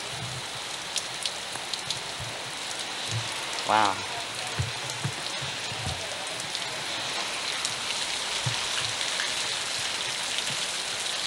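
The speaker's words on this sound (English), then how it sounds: "Raining on my bike" Rain falling steadily on a bike at night, a dense continuous patter with scattered louder drops, a man briefly exclaiming once partway through.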